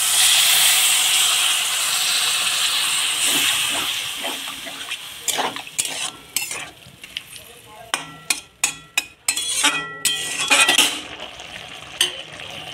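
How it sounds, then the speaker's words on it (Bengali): Water poured into a frying vegetable curry of winter flat beans sends up a loud, rushing hiss of steam that slowly subsides, followed by a run of clattering stirs and bubbling spurts in the pan. "তরকারি ভাজা হয়ে গিয়েছে, এখন আমি একটু জল দিয়ে দেব।"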